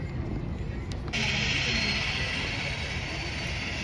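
A loud aircraft engine being run up on test near Vancouver Harbour roars continuously, then surges to a higher, harsher whine about a second in and holds there, steady and powerful.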